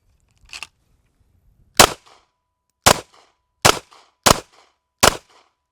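Six pistol shots fired at a target on an outdoor range, sharp, loud cracks spaced roughly a second apart, the first one fainter and more distant-sounding, with brief echoes trailing each report.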